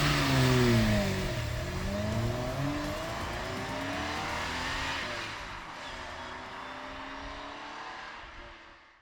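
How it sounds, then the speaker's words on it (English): A Ferrari fitted with a Klein Inconel exhaust roars loudly and close up, its pitch rising and falling over several seconds before fading away, with no voices. "Ferrari factory exhaust and make it sound glorious like an F1 car, such as this Klein Inconel exhaust"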